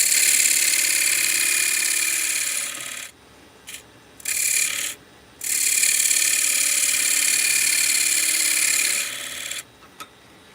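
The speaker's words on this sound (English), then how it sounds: "So that leaves us with sanding." A power sander works along a wood edge with a loud, steady, close rasping hiss that cuts out in several short gaps before resuming, and no voices.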